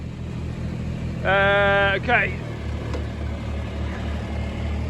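An old Kubota G23 ride-on lawnmower engine idles at a steady, even drone close by, with a person speaking over it partway through.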